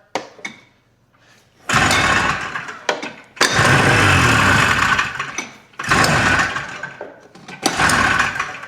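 An old, cheap snowmobile engine is cranked over in several loud, close bursts, each a rough roaring churn that stops after a second or two before the next attempt.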